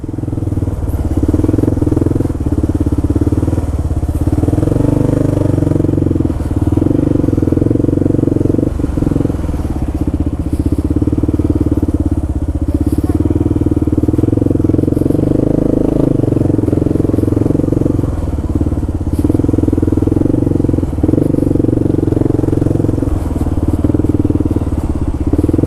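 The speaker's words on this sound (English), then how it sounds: "Oh, check it out, NYPD motorcycles." NYPD police motorcycles pass on a New York City street, their engines a loud, steady low rumble with faint clatter, heard continuously for over twenty seconds.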